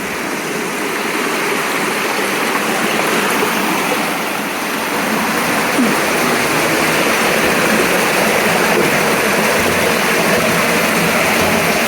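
Steady rushing water flows through a cave in West Tennessee, a dense, continuous broadband roar like a stream or small waterfall close by, holding constant and growing slightly louder toward the end.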